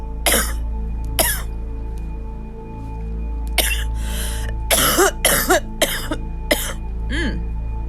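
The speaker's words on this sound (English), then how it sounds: "I'm gonna cough some more." A single person coughs repeatedly in a quiet room, short sharp bursts in irregular clusters with pauses between, over a low steady hum.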